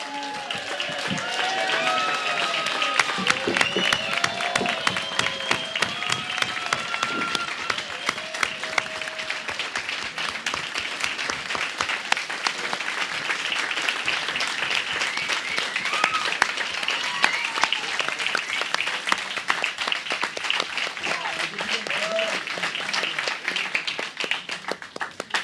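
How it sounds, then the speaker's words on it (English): Crowd applause at a live wrestling event, sustained dense clapping from a large audience that carries on evenly for the whole stretch, with a few cheers and whistles early on. "Please give a round of applause to"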